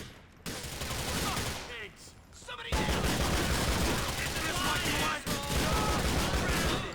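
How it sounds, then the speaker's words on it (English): Automatic machine gun fire in GTA 4, loud dense bursts that stop briefly and resume, with a short lull mid-way before heavier continuous firing, mixed with game noise. "I didn't realize that this was a machine gun"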